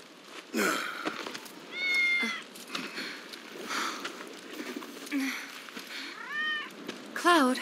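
A cat meows several times in Final Fantasy VII Remake, short rising and falling cries spread across the clip, fairly close, over soft background ambience and sniffing.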